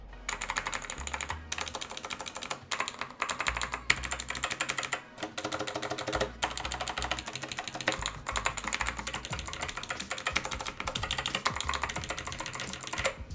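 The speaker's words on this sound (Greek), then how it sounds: "ο μηχανικός διακόπτης έχει και πιο απαλό πάτημα και είναι και πολύ πιο απαλός" Fast, continuous typing on a SteelSeries Apex 5 keyboard with hybrid mechanical switches: dense, close clicks and soft key thuds in quick rhythmic bursts with brief pauses and no talking.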